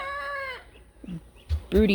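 Hens cluck and call close by on a farm, a couple of drawn-out harmonic squawks and short clucks over a brief stretch, with faint background noise.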